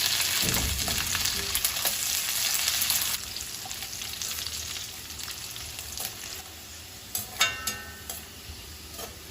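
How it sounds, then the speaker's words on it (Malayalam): Raisins and cashews frying in three tablespoons of hot ghee, a steady close sizzle that softens after a few seconds, with occasional clinks of a spoon stirring the pan, no talking. "ഇതിലോട്ട് 3 ടേബിൾ സ്പൂൺ നെയ്യ് ഒഴിച്ചിട്ട് ഈ കിസ്മിസും കാഷ്യൂനട്ടും ഒന്ന് വറുത്തെടുക്കാം"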